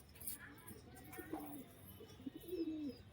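Giribaz pigeons in Murshidabad coo after being released, a few soft, short rolling coos close by over a quiet background, with faint human voices present.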